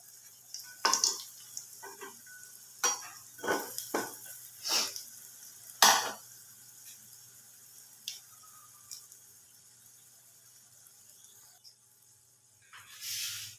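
Egg pakoras fry in a pan over low heat: a faint sizzle sits under a series of sharp spatula clicks and clinks as pieces are turned, then a quiet stretch before a final scrape.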